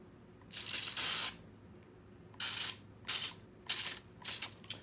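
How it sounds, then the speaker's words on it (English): A hand sprayer set to a fine mist puffs bleach in short bursts: one long spray, then four quicker hisses spaced about half a second apart, close and clear against a quiet room. "my sprayer is set on a fine mist"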